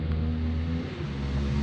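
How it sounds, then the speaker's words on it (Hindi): A racing motorcycle's engine roars and revs as it passes at a corner during a track-side flyby, a loud sustained drone that dips briefly midway and swells back. "इंजन की आवाज तो काफी ज्यादा आ रही।"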